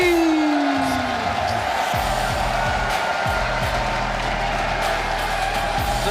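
A live esports arena crowd at a Rocket League Championship Series semi-final cheers and roars steadily as team NRG walks on stage, a loud continuous wash of voices with a low rumble underneath.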